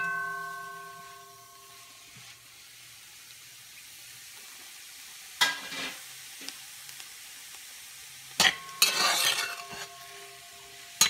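Pak choi is stirred in a hot pot, giving a quiet sizzle with a few sudden scraping and clattering stirs near the middle and end.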